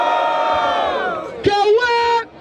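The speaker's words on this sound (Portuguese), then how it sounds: "Barulho para as rimas do Refel!" Crowd at a Brazilian freestyle rap battle, Batalha da Aldeia in Barueri, São Paulo, cheers and shouts loudly, with a sustained roar that swells into a burst of whoops and yells near the end.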